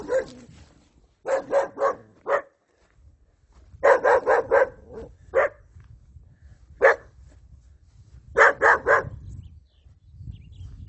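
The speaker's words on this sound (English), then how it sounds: "A couple of dogs." A couple of dogs bark in short bursts of two to four yaps, separated by pauses, somewhat distant outdoors in the countryside near Ocuilan de Arteaga, Mexico, over faint rural background noise.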